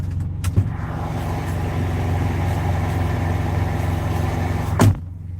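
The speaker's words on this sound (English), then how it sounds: "Yeah, that's a loud reefer. You guys hear that?" A loud, steady mechanical drone of a truck trailer's refrigeration unit runs continuously nearby, with a couple of sharp knocks at the start and end.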